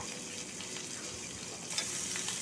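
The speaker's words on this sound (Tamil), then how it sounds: "இந்த வெங்காயம் வந்து நல்லா டிரான்ஸ்பரண்ட்டாகி வரணும் ஸோ கருவேப்பிலை எல்லாமே நல்லா பொரிஞ்சு வரணும்" Garlic, curry leaves and onion fry in hot oil for a tomato chutney, giving a steady, close, even sizzle that brightens slightly near the end, with no talking.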